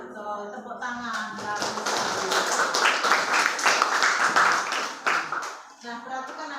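During an Indonesian-language classroom lesson, a burst of group clapping rises for several seconds between stretches of a teacher talking, then fades as speech returns.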